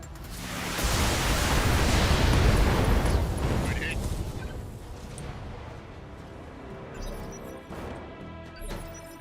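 Heavy weapons fire and blasts from mechs in the Battletech game, a loud sustained crashing roar that swells in the first few seconds and then settles into rumbling impacts with a few later bursts.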